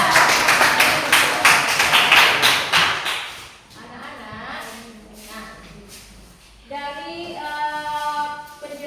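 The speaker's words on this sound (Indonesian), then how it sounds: "Beri tepuk tangan kelompok 4" A classroom of students in an Indonesian lesson applauds group 4 with dense, lively clapping for about three seconds. The clapping then fades, and an adult speaks over quieter room noise.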